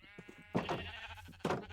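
Sheep bleating on a farm, two loud bleats close by, each rising after quieter short sounds, with no talking.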